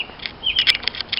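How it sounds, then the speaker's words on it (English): An American robin, a thrush, sings a few short, bright phrases outdoors, fairly faint and a little distant, with brief pauses between the warbled notes and a quiet background. "That's a robin singing"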